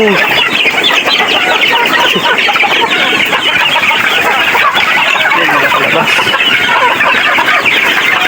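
Shamo chickens, a large breed, clucking in a coop. Dense, overlapping clucks go on loud and close the whole time, with no talk.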